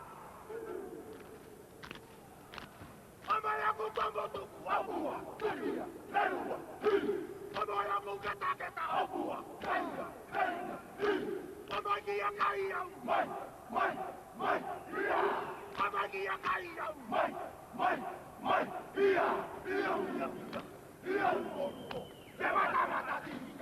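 Cook Islands rugby team performing a war chant in reply at a 2000 World Cup match against New Zealand, rhythmic shouted chanting voices with stamping beats, loud and sustained over a roaring stadium crowd.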